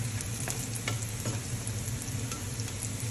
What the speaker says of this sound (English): So stir constantly so you don't cause burning on your onions.